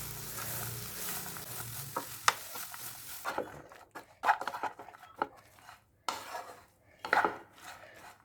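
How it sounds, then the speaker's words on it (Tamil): Finely chopped broad beans being stirred in a pan for a South Indian stir-fry, with a spoon scraping and tapping the metal in irregular strokes over a soft sizzle, close and moderately loud with no talking. "அவரைக்காய் சேர்த்து நல்லா கிளறி விடுங்க."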